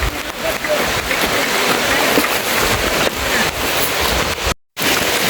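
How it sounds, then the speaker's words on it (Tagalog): Dense, loud, steady hiss of heavy rain pouring down near a motorbike parked under a roof, with rushing wind-like noise and a brief dropout near the end. "Malakas yung ulan."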